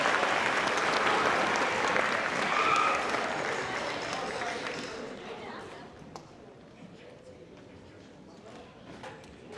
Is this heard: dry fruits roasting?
no